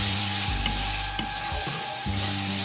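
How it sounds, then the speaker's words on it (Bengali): Spice masala for a Bengali-style lalantika fish curry fries in a pan, a bright steady sizzle broken by a few soft, low thuds and scrapes as it is stirred, with no voices. "একটু নেড়ে দিচ্ছি।"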